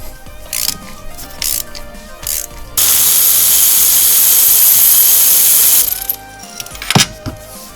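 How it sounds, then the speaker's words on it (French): A 14 mm spark plug socket wrench loosens a spark plug on a Renault Twingo 3, with close ratcheting clicks giving way to a long steady hiss and then scattered metallic knocks. "On récupère sa clé à bougie de 14."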